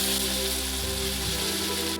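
Cumin and ginger-garlic paste frying in hot oil in a wok, a dense, steady sizzle close up with no voices.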